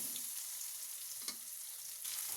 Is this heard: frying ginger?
yes